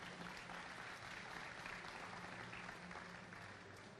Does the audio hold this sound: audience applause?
yes